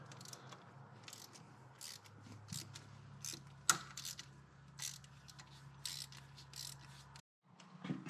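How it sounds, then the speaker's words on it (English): A Snap-on ratchet clicks in quick, quiet bursts while being worked on a Wacker Neuson compactor, its pawl ticking rhythmically with brief pauses between strokes. "I forgot to bring my normal half-inch or quarter-inch ratchet, so I get to use this one"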